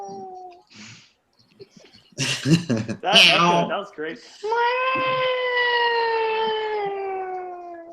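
Cats in heat yowl in a long, rising, siren-like wail that swells and holds, preceded by short cries and bursts of nearby talk and laughter.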